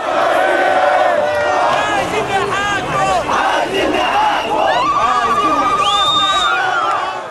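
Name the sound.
Egyptian crowd celebrating in Cairo streets, horns, singing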